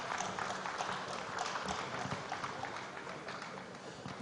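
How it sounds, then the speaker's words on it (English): A conference audience applauds in a large hall, a steady sustained wash of clapping from many hands throughout with no voices standing out. "A warm round of applause for them."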